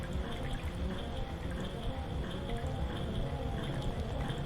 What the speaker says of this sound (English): the water flowing through the red pipeline has reached the first room